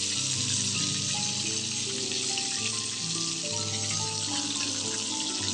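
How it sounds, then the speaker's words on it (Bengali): Chicken pieces fry in hot oil at home, a soft, steady sizzle and crackle that continues evenly without voices. "আমার চিকেন প্রায় ভাজা শেষ, আর কিছুক্ষণ ভেজে উঠে ফেলব।"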